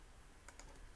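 A single computer keyboard key pressed in a quiet room, probably the enter key, with two quick faint clicks close together and then soft low background hiss.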